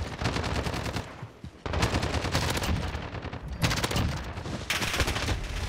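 Sustained bursts of M13 assault rifle fire in the video game Modern Warfare, loud and close, with dense rapid shots broken by brief pauses between volleys.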